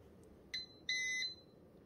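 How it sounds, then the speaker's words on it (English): A Braun MultiServe KF9150BK coffee maker signals that brewing is done with two faint, high electronic beeps, a short chirp followed by a longer tone, over a quiet room hiss. "it does beep at you when it's done."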